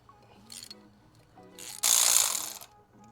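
A ratchet clicks in short bursts while loosening a spark plug on a Volkswagen Jetta, a few quick close pawl rattles followed by a louder, longer clicking run, fairly quiet overall.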